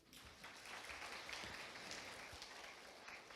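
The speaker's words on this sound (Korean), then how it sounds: "열정적으로 세션 진행해주신 조성용 코치님께 큰 박수 부탁드립니다" An audience gives a faint, distant round of applause for coach Jo Seong-yong at a game development program information session, a soft, even patter of clapping lasting a few seconds.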